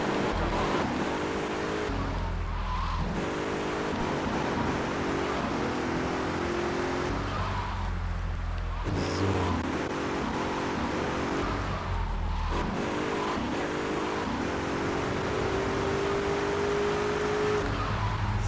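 A car driven in GTA III, its engine droning loudly and continuously, revving up and dropping back several times as the gears shift, with no talk over it.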